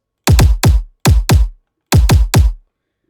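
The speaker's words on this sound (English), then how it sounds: "you've probably heard a kick that sounds like this" Eight punchy future bounce kick drum hits with deep low-end thumps, in two tight groups of three and two, repeated in a syncopated pattern.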